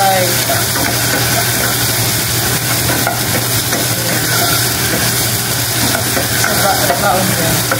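A home-cooked dish with coconut milk fries loudly and steadily in a pan, a dense continuous sizzle close up with faint stirring noises throughout.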